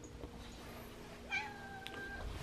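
A cat recovering from surgery gives a single short, faint meow against a low background hum, heard alone without talk.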